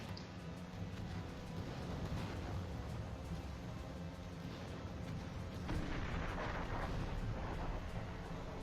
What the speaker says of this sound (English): now I'm going to bring up artillery